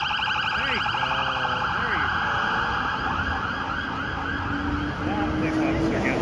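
A police car siren wails loudly through a Toronto downtown street, its rising and falling sweep continuous over traffic noise, with someone briefly speaking.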